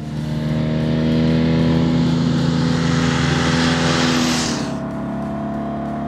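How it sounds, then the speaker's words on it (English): A Porsche 356 race engine of 1620cc, making around 135 horsepower, holds a loud, steady, buzzing drone up close, swelling slightly and then easing off near the end. "The motor is a 1620cc motor, but produces roughly 135 horsepower"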